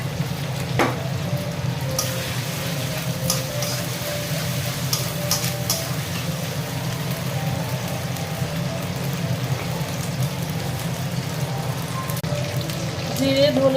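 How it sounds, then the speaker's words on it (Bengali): Ginger paste with ground cumin, coriander and chili powder fries in hot oil, giving a soft, continuous sizzle and crackle with occasional sharper pops, fairly quiet and steady throughout. "তেলের মধ্যে আদা পেস্ট দিয়ে জিরে, ধনে, লঙ্কার গুঁড়ো সব দেওয়া হয়ে গেছে।"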